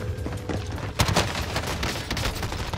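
Rapid video-game gunfire from an MP5 submachine gun in a Call of Duty Rebirth match, a dense fusillade of close, loud shots with a sharp burst near the middle and no talking over it.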